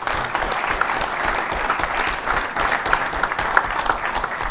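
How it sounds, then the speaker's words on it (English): An audience at a general election candidates' debate in the Granville Hotel gives a big, sustained round of applause, many hands clapping in a dense, even wash that holds at full strength, near and without speech. "Big round of applause, please."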